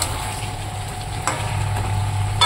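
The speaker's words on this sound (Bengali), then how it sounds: "তো দেখো ফুলকপিটার সঙ্গে মশলাটা ভালো করে আমি কষিয়ে নিয়েছি" Cauliflower cooking with spices in a pan, a steady soft sizzle close by with faint stirring scrapes and no talk.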